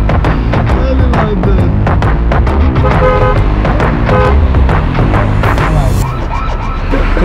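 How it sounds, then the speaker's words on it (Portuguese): A car horn honks in a late-night street while music or dense noise plays loudly throughout, with repeated sharp tonal blasts standing out near the end; a voice is faintly present. "Olha lá. A buzina."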